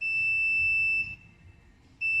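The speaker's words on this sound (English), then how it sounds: "the buzzer of the digital junction box rings" The buzzer on a smart floor scale's digital junction box gives a piercing electronic beep that holds for about a second, drops to silence, then starts sounding again. It is loud and close, and no one speaks.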